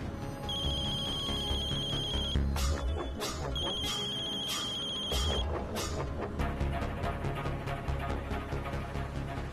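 An electronic phone ringtone trills in repeated bursts over a busy, noisy background with music-like tones, no one speaking over it.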